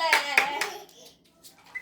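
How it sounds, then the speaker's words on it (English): A mother claps her hands a few times, soft close claps during indoor toy-cooking play with a child, followed by quieter sounds. "Mother, clap."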